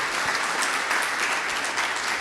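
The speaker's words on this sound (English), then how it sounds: "So let's give them a round of applause." A luncheon audience at ASU applauds, a thick, continuous wash of many hands clapping at steady volume throughout, with no speech over it.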